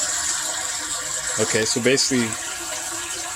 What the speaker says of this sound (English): tub water finally made it to the tank.